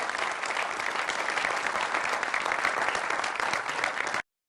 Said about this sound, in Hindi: तालियों के साथ आप सभी का बहुत बहुत स्वागत है